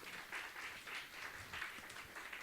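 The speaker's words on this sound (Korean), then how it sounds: "오 박수." Audience applause from a high school Sunday worship gathering, heard as a steady, fairly faint patter of many hands clapping in a pulsing rhythm throughout.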